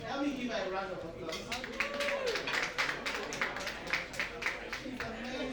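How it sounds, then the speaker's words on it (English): Audience applause for someone speaker at a Founders Lounge gathering in Lagos, a dense patter of many hands clapping throughout, steady and fairly close, with crowd chatter mixed underneath. "please help me give her a round of applause"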